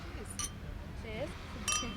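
Glasses clink in a toast at Cannes, with a couple of brief, faint chimes spaced apart over a low room murmur and some quiet talk.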